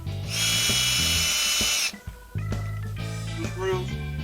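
A powered Torx T20 driver whirring on fender flare screws during a 2020 GMC Sierra 2500 install, a loud high-pitched buzzing burst followed by shorter tool whirs, with someone talking over much of it.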